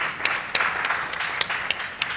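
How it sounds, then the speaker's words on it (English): Audience applause for panelists at a leadership summit, a steady wash of clapping with a few sharper individual claps standing out, moderately loud and with no talk over it. "Please, a round of applause to the panelists."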